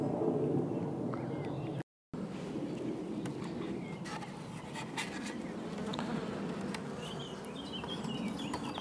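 Honeybees buzz steadily and close around a queenless nucleus hive, a continuous droning hum with individual bees zipping past, and a brief dropout partway through.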